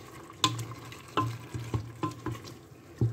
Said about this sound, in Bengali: এবার আমি এটাকে খুব ভালোভাবে এটার সাথে নেড়ে চেড়ে নিব আর আমার চুলার আঁচ কিন্তু হাই হিটে আছে